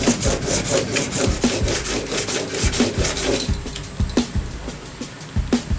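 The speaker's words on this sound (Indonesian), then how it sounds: "Sekarang kita finishing dengan kertas amplas aja yang 800." Fine 800-grit sandpaper rubs back and forth against a wood chisel in quick, rhythmic strokes, close and fairly quiet, with no voices.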